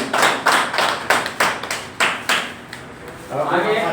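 Attendees at a Kunigal taluk meeting about filling the area's lakes give a loud round of applause, sounding as about eight strong, evenly spaced clapping bursts that fade to quieter noise near the end.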